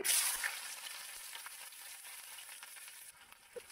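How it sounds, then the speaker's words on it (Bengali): Chopped onion, chili and garlic fry in hot oil in a wok with a soft, continuous sizzle that starts slightly louder and settles into a fainter crackle. "কড়াইয়ের তেল গরম হয়ে গেছে, আমরা এখন পেঁয়াজ মরিচ আর রসুন কুচিটাকে দিয়ে দিচ্ছি।"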